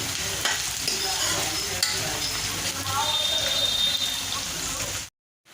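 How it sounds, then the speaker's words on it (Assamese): Chopped onions sizzle steadily in a pan for a chicken curry while a spoon stirs them, the frying hiss continuous and fairly close, ending in abrupt silence. "অকণমান ভালকৈ লৰাই দিছোঁ মই পিয়াজখিনি"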